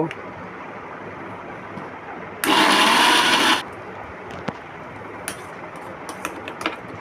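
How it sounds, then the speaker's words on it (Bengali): A mixer grinder whirs loudly for about a second, grinding ginger pieces, four green chillies and ten to twelve garlic cloves, with quiet kitchen clatter before and after. "এগুলো একসঙ্গে মিক্সার গ্রাইন্ডারে বেটে নেব"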